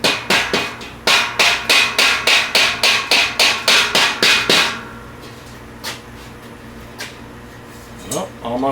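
Hammer blows driving metal parts of an Amazon shop shelf into place: about fourteen loud, close, evenly spaced strikes in a fast run, then a few scattered knocks and light handling sounds.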